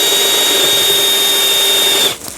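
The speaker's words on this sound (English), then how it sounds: "I'm gonna have to drill a piece of wood and find out." A Milwaukee M12 FPD2 drill bores into a wooden workbench with a close, steady high-pitched whine that lasts about two seconds, then cuts off abruptly.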